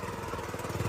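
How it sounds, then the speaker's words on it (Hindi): Small self-started power weeder built around a motorcycle engine, running steadily at close range with an even, throbbing engine note and no talk. "ये देखिए स्टार्ट हो गया, सेल्फ से स्टार्ट हो गया"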